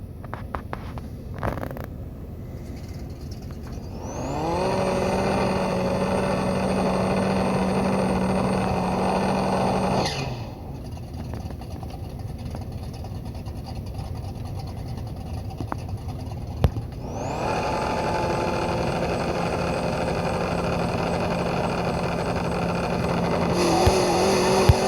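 A no-prep drag car run at Battle Creek in the No Limit 2.0 racing game: the engine revs up into a loud, sustained high-pitched roar, cuts off, then builds into a second long full-throttle pull, with no talk.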